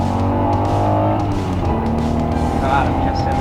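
Ayrton Senna's Honda NSX accelerating on a drying race track, its engine note loud and sustained with steady harmonic drone throughout, rising slightly near the end.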